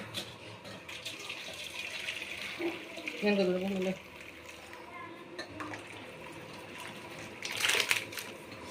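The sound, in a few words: washing chicken liver in water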